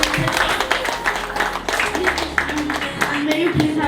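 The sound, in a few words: applause for the teachers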